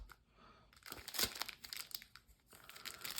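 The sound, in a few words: opening a packet of KMC Standard Size card sleeves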